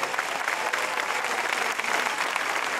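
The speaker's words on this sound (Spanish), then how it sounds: "Un aplauso para ellos y ellas también." A dense, continuous wash of crowd applause at an outdoor political rally in an Alicante park, steady and unbroken for the whole stretch.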